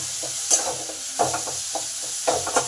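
Spices fried with tomato in a pan, soft sizzling under repeated scraping stirs that land in uneven bursts, close and fairly loud.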